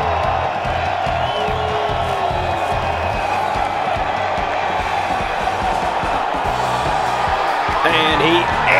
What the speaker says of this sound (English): Chris Stroud wants to hear it from the crowd